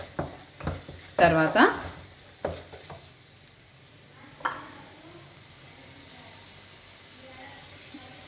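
Garam masala being stirred into a bread bonda filling in a pan, a few short scraping stirs with a light sizzle near the start, then a quiet stretch with a brief clink, and a voice speaking briefly.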